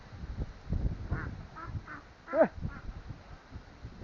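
Ducks quack several times in short bursts, fairly faint against a quiet outdoor background, with one louder call in the middle.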